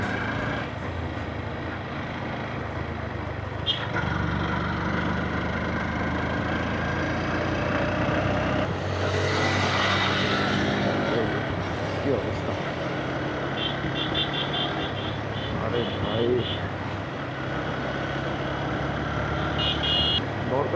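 Local jeeps and motorbikes run along a hill road in Sajek, engines droning and rumbling steadily with one vehicle swelling louder as it passes close midway, plus faint distant horn-like tones later.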